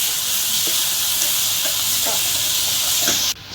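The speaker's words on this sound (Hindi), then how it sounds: "बघार लाल होने के बाद अब इसे अच्छे से फ्राई करेंगे।" Onions frying for a dosa filling give a steady loud hissing sizzle with a few soft stirring knocks, then cut off sharply near the end.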